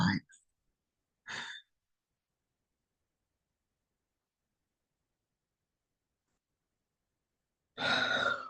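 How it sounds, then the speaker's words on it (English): A slow breath out during a guided breathing exercise comes late and close after a long silence, preceded by a couple of short breathy sounds. "And exhale for 5."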